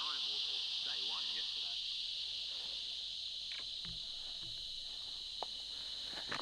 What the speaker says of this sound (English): Now listen to the cricket and come back when she's ready.